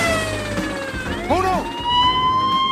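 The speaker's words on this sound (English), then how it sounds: "I was wondering if you could turn off that siren." In a Garfield cartoon, a wailing siren sweeps up and down under a short spoken line, its rising and falling tone loud and close.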